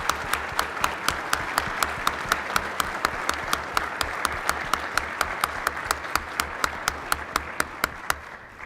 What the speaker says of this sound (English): We'll clap for him first.